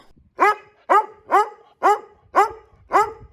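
A single dog barks six times in an even, steady rhythm, close and loud, with quiet gaps between each bark.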